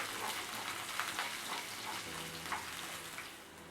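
Chopped ginger and garlic sizzle softly in hot oil in a pan while being stirred, a steady quiet frying hiss with faint scraping, no talking.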